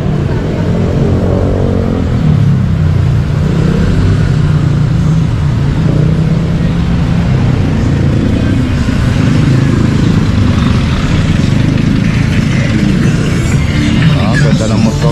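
Engine of a motorcycle on a Philippine roadside, mixed with steady car and tricycle traffic rumbling continuously, with people talking over it.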